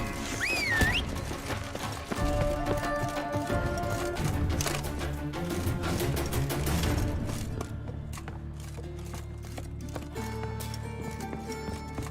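Rapid hoofbeats of a galloping horse in The Witcher 3 over a busy game soundtrack with music and effects, a whinny near the start, steady and fairly loud throughout.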